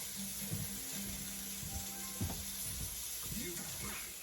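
Venison burgers cook in a pan, giving off a soft, low-level sizzle under light kitchen clatter and the clink of a utensil against the pan.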